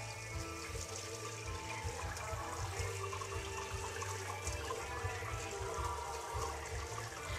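Tap water runs steadily into a kitchen sink while eggs boiled eight minutes in pasta water are peeled under the stream, a continuous close splashing with no break.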